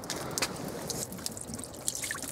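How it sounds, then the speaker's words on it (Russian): Spring water seeping and trickling from the foot of a slope along a small river, faint wet dripping and gurgling with a few brighter drips. "И вот родники сочатся, и эти родники, они вдоль всего склона."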